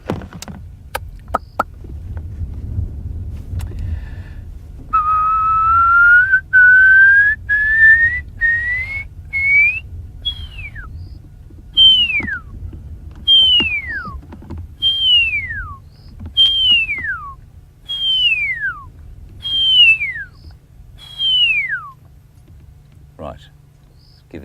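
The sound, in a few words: whistle imitating an owl call to attract a pearl-spotted owl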